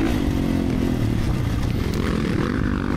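A 2-stroke 300 dirt bike is ridden hard on the motocross track at Eugene MX park. Its engine roars loud and close without a break, with a dense raspy drone and a faint clatter running through it.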